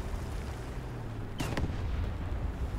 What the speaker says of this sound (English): Bit of artillery.